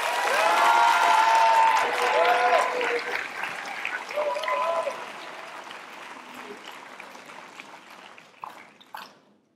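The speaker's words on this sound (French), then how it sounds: "des applaudissements sympathiques, chaleureux et enthousiastes pour Anaïs Roman" An audience at a high school eloquence contest final in France applauds warmly, the clapping and cheering strong at first, then thinning and fading out over several seconds.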